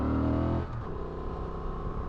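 A Honda Transalp 750 motorcycle ridden off-road on a wooded forest trail, engine droning steadily then dropping off abruptly as the throttle closes, leaving a lower, uneven idle-like rumble close by.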